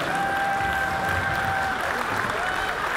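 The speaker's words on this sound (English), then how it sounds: "let's see the round of applause for these two midgets." Audience applause at a live event, a steady wash of clapping from a crowd heard under a faint voice for a few seconds.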